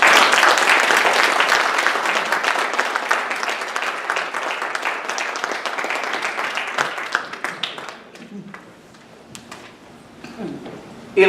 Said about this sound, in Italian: Accogliamo con un grande applauso Mr.